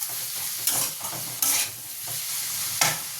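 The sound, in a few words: stirring onion and tomato frying in a pan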